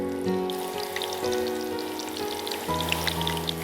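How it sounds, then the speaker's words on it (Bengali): Onion frying in a pan while making fish kofta haleem, a steady broadband sizzle with faint crackles running throughout, fairly close and alone, with a low hum underneath. "এর মধ্যে আমরা সামান্য একটু পেঁয়াজ ভেজে নিব"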